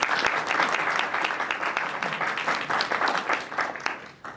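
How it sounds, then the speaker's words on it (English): An audience at an evening talk and dialogue applauds its two speakers: a full, sustained round of clapping that stays loud throughout, then begins to thin and trail off at the very end. "Please give both of our speakers a big hand of applause"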